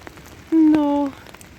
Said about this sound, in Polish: ale cały czas deszcz pada, a im tam deszcz nie przeszkadza